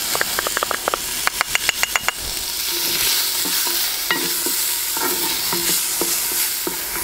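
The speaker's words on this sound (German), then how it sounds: "Und wir werden jetzt unseren Bacon, unsere grob gewürfelten Speckstücke hier ordentlich anbraten." Coarsely diced bacon fries in a Dutch oven (potjie), starting with a quick run of sharp scraping stirs, then settling into a loud, close, steady sizzle broken by occasional clinks.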